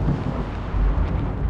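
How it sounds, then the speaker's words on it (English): Thunder from a thunderstorm in the video game Batman: Arkham City, a steady low rumbling roar that swells and holds loud throughout, with no talk over it. "there was a thunderstorm as well"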